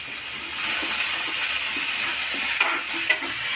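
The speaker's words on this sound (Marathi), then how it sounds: "हे बघा कांदा आणि टमाटर इथे चांगलं परतून झालेलं आहे" Onion and tomato sauté in a pan for matar paneer, giving a steady, close sizzle and hiss with a couple of brief stirring knocks near the end.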